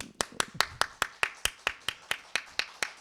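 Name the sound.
congregation clapping fifty times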